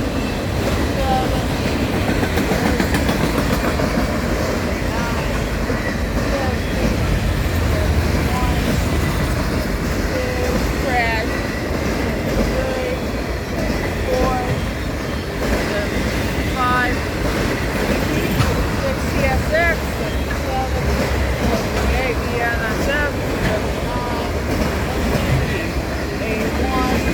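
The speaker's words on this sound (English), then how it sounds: "That train was motoring, Jack." A BNSF empty autorack freight train rolls past close by at speed on a mainline, a loud continuous roar with rhythmic wheel clatter and occasional flange squeals throughout, with a voice speaking over it.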